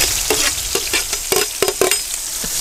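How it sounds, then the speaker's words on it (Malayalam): Chopped onions dropped into hot oil in a pan, village-style cooking, giving a steady broadband sizzle with a series of sharp crackles and stirring scrapes, close and fairly loud, no talk. "അപ്പോൾ ഉള്ളി ഇടുമ്പോൾ ഒരു സൗണ്ട് ഉണ്ട്."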